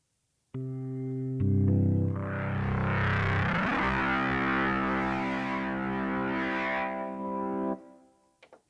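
A Hammond organ sound simulated on a Yamaha MODX/Montage synthesizer with distortion plays sustained, buzzy chords with a percussive click, swelling into a gritty, overdriven roar before cutting off cleanly, with no talking.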